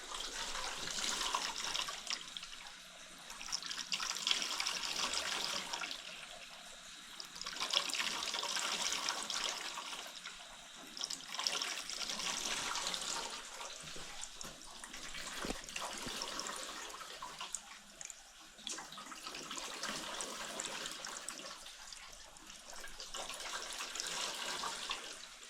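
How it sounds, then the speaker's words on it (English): Water rushes through the pipes of a geothermal pond-loop system, a surging, hissing flow that swells and fades in repeated waves at moderate volume, with no speech. "Every time there's a rush of water, there's tons of air in front of it"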